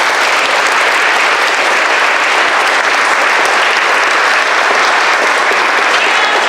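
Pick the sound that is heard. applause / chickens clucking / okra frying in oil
applause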